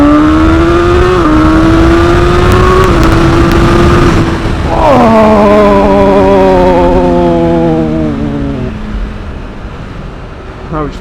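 A BMW M1000R naked bike, 210 bhp, pulls hard from standstill to 60 in first gear with traction control on, its engine note rising in a loud sustained howl, dipping briefly near four seconds, then climbing again and fading away.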